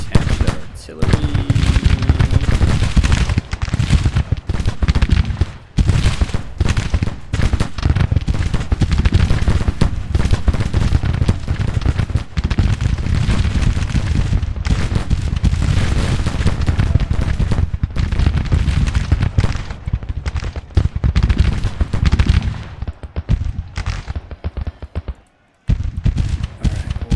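Dense, continuous battlefield din from a historical strategy game, with repeated artillery booms and crackling gunfire layered thickly throughout, loud and near, with a voice talking over parts of it.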